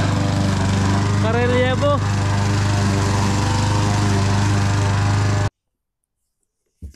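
A Ryobi 40V cordless grass trimmer runs with a loud, steady motor whine, then cuts off abruptly into silence. A voice speaks briefly over it early on.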